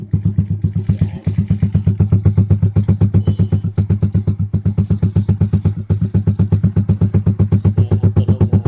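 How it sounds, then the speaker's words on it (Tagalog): A Suzuki Raider J115 Fi motorcycle muffler putters at a fast, steady idle pulse, loud and close, with brief revving dips and a few clattery accents; no talking. "Yan ang tunog ng aking muffler."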